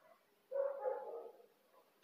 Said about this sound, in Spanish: Ahí empezó el perro.